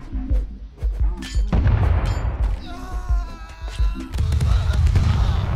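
Cannon fire rings out in the video game Totally Accurate Battle Simulator: several heavy booms over dense, busy battle noise, with a voice talking at times.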